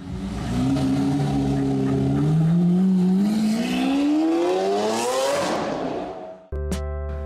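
A Maserati sports car engine revs up loud and close, its pitch climbing steadily through a sustained acceleration before cutting off abruptly, followed by a brief different tonal sound.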